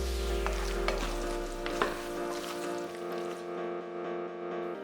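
Meatballs stirred through simmering Ottogi tomato sauce in a pan, a steady soft bubbling sizzle with a few scraping knocks of the utensil early on, close and continuous throughout.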